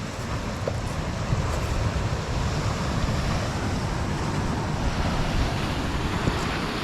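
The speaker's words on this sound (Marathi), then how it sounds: "समुद्र सध्या खवळलो." Rough, churning sea waves on the Konkan coast near a fishing village after heavy rain, heard as a loud, continuous surf roar with wind buffeting the microphone throughout.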